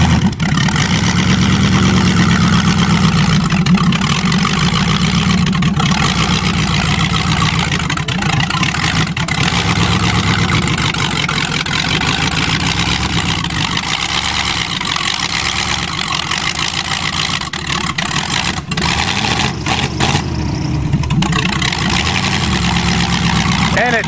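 Chevy engine running steadily after being revived from hydrolock, a loud continuous idle-like rumble with a rough mechanical drone close by for the whole stretch.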